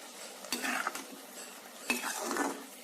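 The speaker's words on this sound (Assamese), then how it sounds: "এতিয়া ভালদৰে লৰাই 5 মিনিটমান সময়" A spoon scrapes and stirs through fried capsicum and onion in a pan, in two distinct bursts of clattering metal with a light sizzle between them.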